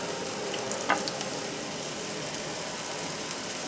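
Beef tips fry over a moderate flame with a steady, dense sizzle that holds for the whole stretch, near and fairly loud, with one brief sharper crackle early on.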